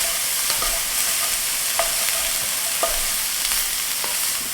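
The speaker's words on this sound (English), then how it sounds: "Mix it all in together." Beef and cabbage stew stirred in a pot over low to medium heat, a steady soft sizzle with a few distinct spoon scrapes against the pot, close and without speech.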